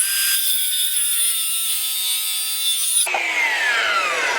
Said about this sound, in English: Now I got my square set to help keep my circular saw in line.